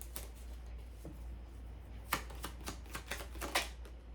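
Soft crisp papery riffling and tapping of tarot cards being shuffled, close and quiet over a low steady hum, with a quicker flurry toward the end.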